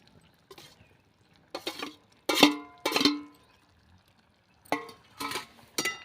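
Okra stirred and sautéed in a pan of simmering curd gravy: a series of short scraping, sizzling bursts of a spoon against the pot, irregularly spaced with quiet gaps between.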